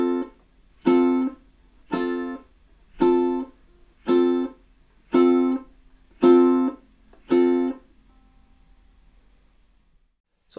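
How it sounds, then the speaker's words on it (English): Ukulele strums the intro of March of the Toreadors: eight evenly spaced, ringing chords played alone, each left to decay briefly before the next, with no talking. "for the intro, let's have a go at playing those through together now"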